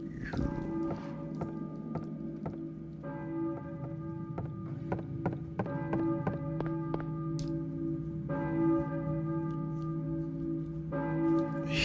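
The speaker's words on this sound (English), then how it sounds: "church bell, maybe. Who's ringing the bell?" Church bell tolling in Silent Hill 1, repeated clear strikes with long ringing harmonics over a low droning ambient background, steady and moderately loud, no talk.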